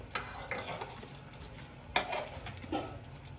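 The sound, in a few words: sautéing masala for fish curry in a pan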